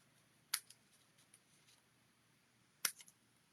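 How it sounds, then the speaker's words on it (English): Two sharp scissor snips cut pieces apart, each a crisp click with a small follow-up, spaced a couple of seconds apart in a quiet room. "So I'll snip all these apart."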